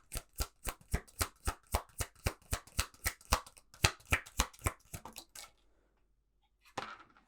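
Tarot cards are riffled and bridged in a quick, regular series of crisp bursts, close up, ending in a pause and one final shuffle.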